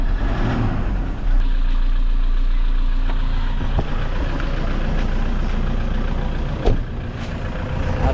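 A Toyota Hilux engine idling steadily after an injector replacement, a loud, close, low rumble with a faint rev near the start and light clicks from work around it.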